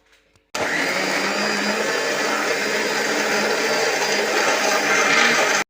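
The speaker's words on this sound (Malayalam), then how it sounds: "ഇനി നമുക്ക് മിക്സിയിട്ട് അടിച്ചടിക്കാം" A kitchen mixer grinds biscuits for a Sharjah shake: it starts abruptly after a brief pause, then keeps up a loud, steady whirring roar for about five seconds.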